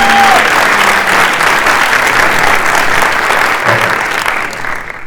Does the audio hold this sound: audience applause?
yes